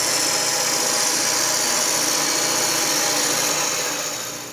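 A drill bores a deep hole into a cylindrical wooden blank, a loud continuous whirring grind that holds steady and tapers slightly at the end, with no talk.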